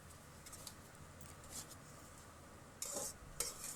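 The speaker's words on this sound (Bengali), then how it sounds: "এই যে আমি শাকটা সুন্দরভাবে নেড়ে দিলাম, মিশিয়ে হলুদ মরিচের সাথে।" Water spinach with turmeric and chili is stirred in a cooking pan, with faint scraping and a couple of short utensil clatters near the end over a quiet background hiss.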